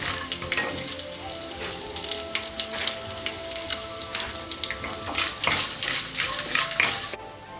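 Mustard seeds, urad dal and chana dal fry in hot oil for aval puliyodharai, giving a steady close sizzle dotted with quick crackling pops that stops abruptly near the end.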